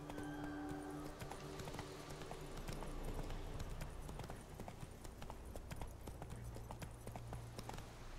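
Roach, the horse in The Witcher, clip-clops along in a fast, steady run of hoofbeats, quite faint under music and game ambience.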